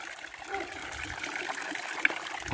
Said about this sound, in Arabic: راه واحد العوينه هنايا خارج منها الماء